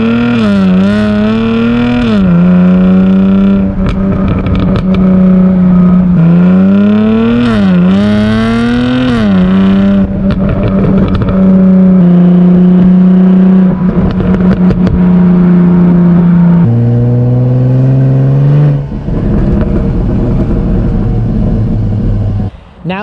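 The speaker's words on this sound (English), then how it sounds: "Now that you heard a clip of the exhaust, it's hard not to disagree" A Jaguar F-Type's exhaust snarls through repeated loud revs close by, the engine pitch climbing and dropping again and again before settling into a steady drone and a lower idle near the end.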